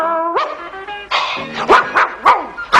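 A dog barks repeatedly in short yips and woofs, mixed with a bright sung jingle, in a French dog food commercial; the barks come loud and close, about five or six in an irregular rhythm.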